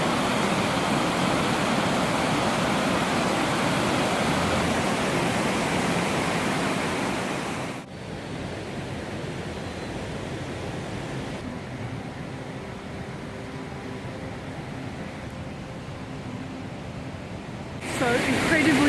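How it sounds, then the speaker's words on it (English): A wide waterfall in south Sweden roars as a loud, broad rush of water, easing somewhat midway before swelling again, while a person talks over the din. "Coming up on a waterfall here."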